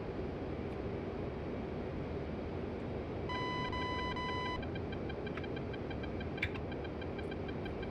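F-15 fighter cockpit in a DCS World flight simulation, a bright steady warning tone sounding about a second, then quieter repeated pulsing beeps over a constant low engine hum.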